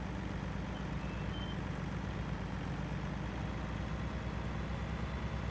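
Tractor engine in Farming Simulator 19 reversing while stuck between trees, a steady loud low drone that runs unbroken throughout.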